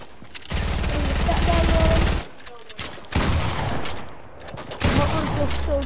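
Rapid automatic gunfire in Fortnite, a dense sustained burst of shots lasting about two seconds, followed by further shorter bursts and game effects, loud and close.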